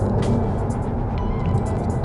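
Car cruising at 120 km/h in sixth gear around 2000 rpm and picking up speed slightly, a loud, steady engine and road drone filling the cabin without interruption.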